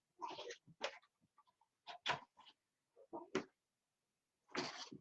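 A puppy gives a series of short, close yips and whimpers, broken by brief pauses, with a louder cry at the end and no talking.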